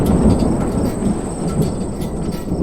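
Strong wind storm sound effect from a Hindi horror audio drama, a loud, dense roar and rumble that blows continuously without pause and with no voices present.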